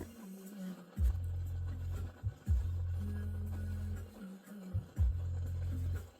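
A steamer bubbles low and steady in the background while a felt hat is formed, broken by short pauses, with a constant rumbling drone and faint clatter above it.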